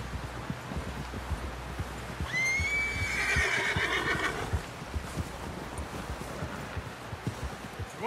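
A horse in the video game Red Dead Redemption 2 lets out a single loud whinny amid soft clip-clopping hooves and rustling, with no talking.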